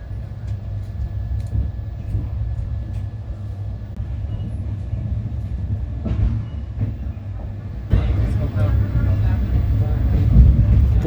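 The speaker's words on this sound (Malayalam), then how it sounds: "പൂർണ്ണഗിരി ജനശതാബ്ദി എക്സ്പ്രസ് ആണ് വന്നിരിക്കുന്നത് ഇപ്പോൾ." The Purnagiri Jan Shatabdi Express pulls into Ghaziabad Junction with a loud, steady low rumble of rolling wagons that builds and grows rougher toward the end, and voices are heard under the train noise.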